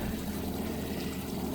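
A small garden pond waterfall, only about twelve inches wide, trickles and splashes steadily in a backyard garden, a soft continuous wash of water with no voices.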